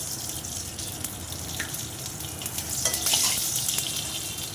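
Panch phoron, the Bengali five-spice blend, crackles and sizzles in hot oil in a pan already used for fish heads, a steady frying hiss with a brief louder burst near the end and no talk.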